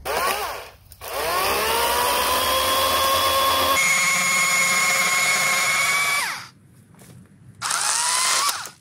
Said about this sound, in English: Electric chainsaw is nice for me